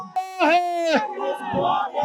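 Crowd of unemployed youth protesting outside parliament against the government, a loud sustained shout or chant rising from the mass of voices, followed by general crowd noise and overlapping talk.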